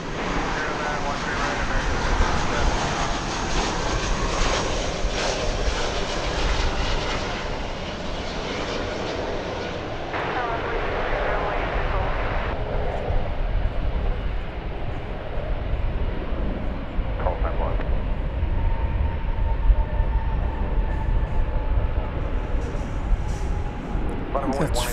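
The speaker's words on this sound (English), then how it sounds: "It's American Airlines A319 coming in from," An American Airlines Airbus A319 jet landing at DFW Airport gives a broad, steady roar that swells and then slowly fades, with wind noise throughout.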